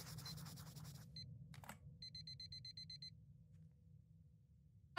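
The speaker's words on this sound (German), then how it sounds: "Ach schön, unser Wecker." An alarm clock rings in the Christmas Night video game, a rapid electronic beeping pattern starting after a second of low rumble, faint and steady, then stopping abruptly.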